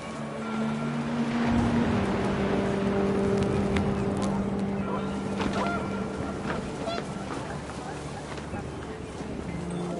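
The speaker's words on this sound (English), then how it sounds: "The wind picked up, and panicked geese appeared and quickly went." Panicked geese honk in the video game What Remains of Edith Finch over gusting wind, their calls layered with a narrator's voice throughout.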